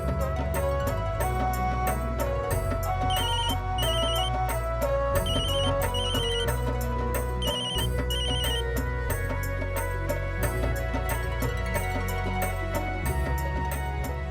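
A phone rings on and on in a repeating pattern of bright trills with short gaps, over continuous background music, and nobody answers.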